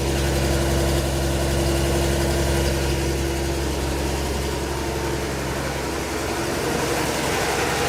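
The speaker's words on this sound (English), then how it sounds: "You get a good audio of the engine there running." A 1967 Ford F-100 service truck idles near the exhaust, giving a loud, steady low rumble with constant vibration throughout.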